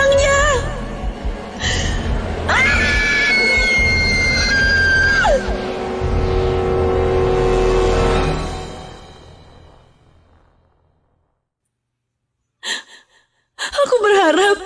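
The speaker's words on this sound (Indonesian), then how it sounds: "Aku pun yang ketakutan akhirnya menjerit sekencang-kencangnya." A person screams loudly in fear, long high-pitched wavering cries close by that fade into silence, followed by a couple of brief, sharp vocal bursts.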